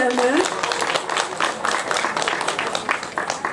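Audience clapping at a Polish regional dialect festival in Modlnica, a dense broadband patter running steadily throughout, with voices talking over it.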